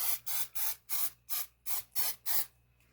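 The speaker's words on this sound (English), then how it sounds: "I'm just going to spray the dish." Eight short bursts of non-stick cooking spray hiss onto a baking dish in a quick, even rhythm, close by, followed by quiet.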